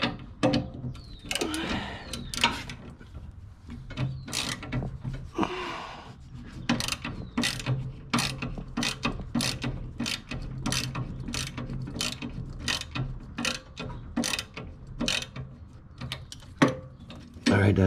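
A ratchet wrench clicks in quick bursts while a bolt on the deck of a 2021 Toro Titan mower is loosened. The clicks are close and loud, with brief pauses between strokes.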